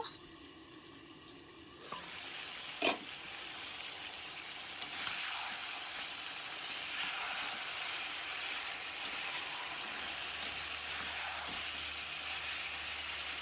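Chicken pieces frying with onions in a covered pan for chicken curry give a steady close hiss and sizzle throughout, with a brief clatter near the start, most likely the lid being set on.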